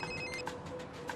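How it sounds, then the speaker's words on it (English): A telephone rings during a skateboarding trick-tips session, short bright electronic trills repeating quickly, fairly clear with no talk over it. "I have a phone call."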